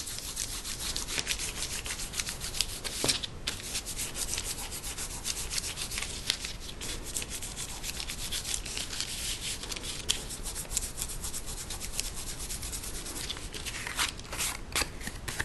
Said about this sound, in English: now I'm just going to take my finger and rub all of this masking fluid off of the surface